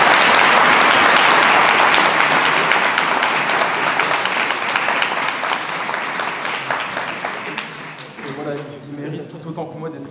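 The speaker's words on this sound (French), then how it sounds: "Et donc, on peut applaudir Mehdi." Loud, sustained applause from an audience at a French preparatory-class sponsorship ceremony, dense clapping that fades gradually toward the end as a voice begins to talk.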